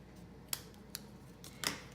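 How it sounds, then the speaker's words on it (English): Scissors trimming corrugated galvanized paper for a mason jar card craft: a handful of sharp, close snips spaced unevenly, with a slightly longer cut near the end, over a quiet background. "I'm just trimming this up a little bit so it's a little straighter."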